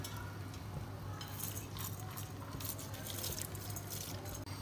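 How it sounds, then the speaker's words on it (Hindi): Water is poured into a cooking pot of washed moong dal lentils in a home kitchen, a steady splashing and trickling held at a moderate level for a few seconds, with no voice heard. "ऐड करेंगे इसके अंदर पानी"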